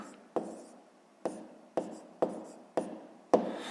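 Pen strokes scratch across paper in short repeated bursts, about six quick marks, as a fraction is handwritten during a fifth-grade math exercise; close and fairly quiet, with no talk.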